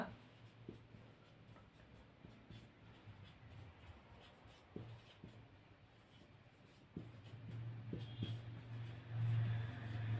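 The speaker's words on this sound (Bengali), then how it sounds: "এখানে আমি লিখে দিলাম বর্ণনা।" A pen writes a description on paper during a Class 8 maths lesson, giving a faint, steady scratching with soft taps and shuffles, close but quiet under a low background hum.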